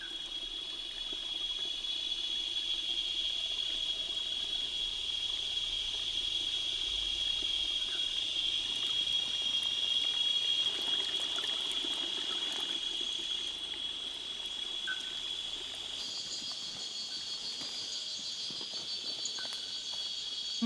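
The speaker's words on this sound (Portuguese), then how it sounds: "13 milhões de pessoas ao longo da bacia do Rio Paraíba do Sul vão se abastecer desta água que aqui está brotando" Spring water wells up and trickles steadily at the source of the Paraíba do Sul river in a forest setting, under a constant high whine of crickets and insects that continues throughout.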